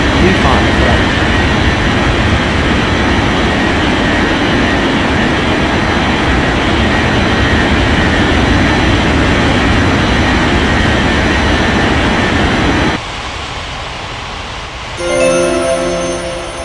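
A steady, loud roar of an airliner jet engine spooling up for takeoff on a runway in an air traffic control game, holding for about thirteen seconds before dropping away, followed by a brief radio-style tone.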